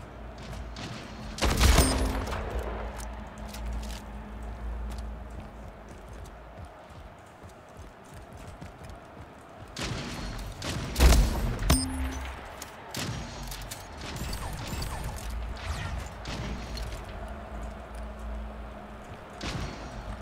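Shotgun fire in the video game Splitgate, two loud blasts spaced several seconds apart over a background of continuous game noise.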